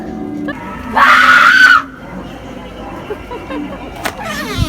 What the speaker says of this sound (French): J'ai entendu crier!